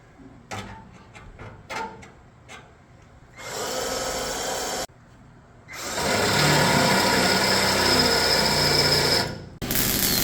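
Power drill working on the front access door of a Bombardier aircraft: a few short ticking bursts, then two sustained high whining drilling runs, loud and close, with brief pauses between.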